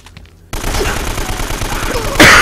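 Rapid gunfire bursts in the video game Uncharted: Drake's Fortune, a quiet lead-in giving way to loud sustained shooting and a sharper blast at the end.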